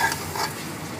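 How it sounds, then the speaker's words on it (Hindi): A spoon stirs a potato and pea vegetable curry with ground cumin, coriander and fresh coriander in a hot pan, giving a close, steady scraping sizzle. "इसको भी अच्छे तरीके से मिक्स करते हैं।"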